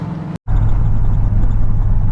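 An LS V8 engine car, tuned through a P59 computer, rolls off the highway with a loud, steady low rumble close by, broken by one very brief dropout near the start.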